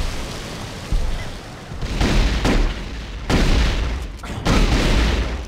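Plasma rifle fire in a retro-styled Terminator 2 game, several loud booming volleys of crackling shots in bursts with short gaps between them, close and heavy in the low end.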